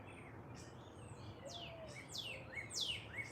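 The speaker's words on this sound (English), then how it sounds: "the birds are so cheerful and vibrant" Birds chirp cheerfully on a morning, a scatter of short bright tweets and calls over a soft steady background hiss, growing a little livelier toward the end.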